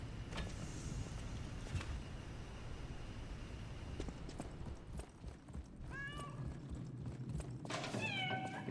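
A cat in Lies of P meows faintly a few times, short high calls over a constant low in-game background hum.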